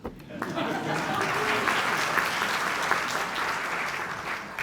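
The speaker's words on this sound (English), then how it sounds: "You can applaud for her." Guests at a county historic preservation reception applaud a council member, a sustained round of clapping in a room, moderately distant and even, with faint murmuring voices underneath.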